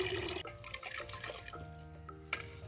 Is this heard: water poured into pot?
yes